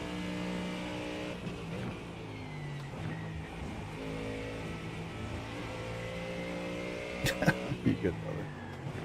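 GT3 race car engine in the iRacing sim, a steady loud harmonic drone with rising and falling pitch under continuous talk, with a short burst of sharper revs or shifts near the end.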